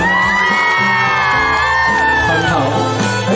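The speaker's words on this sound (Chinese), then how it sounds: "如果认为自己很漂亮、自己很帅的朋友，请一个尖叫声来" Audience at an outdoor Hakka tea-picking song music festival in Toufen screams and whoops loudly for about three seconds, a dense crowd roar with shrill high voices rising and fading.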